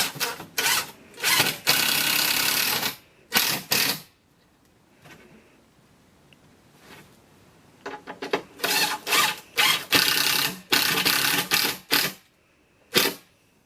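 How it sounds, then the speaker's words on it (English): A power drill driving screws into timber step frame pieces, several loud whirring bursts of a second or two each, separated by short pauses and quiet handling. "Let's screw them together."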